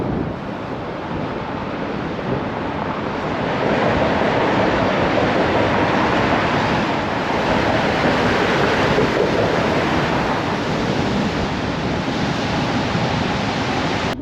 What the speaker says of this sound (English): you're currently literally driving right through the middle of a mountain